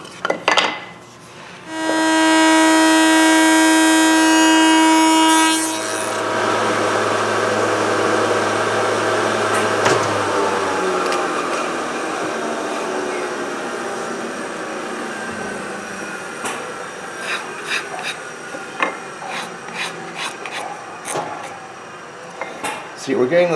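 A wood router cutter makes a practice pass on a clock door cope-and-stick joint, a loud steady high whine that spins up, cuts, then winds down, with scattered workshop knocks after.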